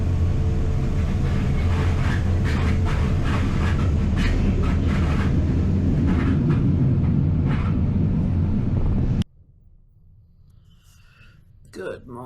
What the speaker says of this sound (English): Sounds like it's going to be a noisy, rickety train again.